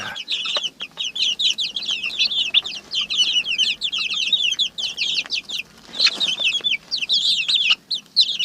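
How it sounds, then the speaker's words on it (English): Chickens and their chicks on a homestead barnyard keep up a busy, continuous chatter of high clucks and peeps, fairly close and steady throughout with no talking. "That's a chicken, go on."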